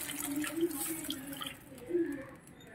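Water runs into a cooking pan in a home kitchen as two glasses are added for rava upma, a faint splashing, trickling pour with a few drips.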